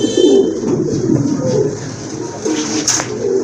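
Pigeons with white tails and wings and crested heads, kept for sale at a pigeon farm, coo in low, close, repeated throaty calls with a brief higher chirp near the end.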